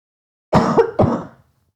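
A woman with the flu gives two quick, harsh coughs in close succession, loud and close, with a brief throaty rasp, surrounded by silence.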